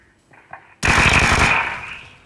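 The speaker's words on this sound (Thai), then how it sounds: "เฮ้ยมีคนยิง" Automatic gunfire erupts in the video game PUBG, a loud sudden burst of rapid shots lasting under a second after faint quieter sounds, then a decaying echo tail.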